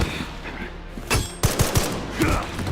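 Gunfire from a handgun in Resident Evil 9, a few sharp shots spaced around a second apart, standing out over ambient game sound and music.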